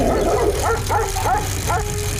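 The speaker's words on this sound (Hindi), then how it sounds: "कुछ कुत्ते राजेश की साइकिल को देखकर भौंकने लगते हैं" Cartoon dogs bark in a village as a bicycle passes, giving a few short yips over a steady background bed while a voice narrates.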